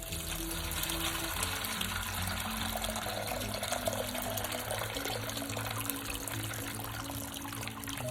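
Steady, continuous pouring of warm water into a dish of chickpeas, close and constant throughout without any talking.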